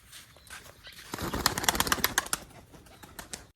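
Captured pigeons are let go and take off, a burst of close wing flaps and clattering beats that swells for about a second and then fades as they leave.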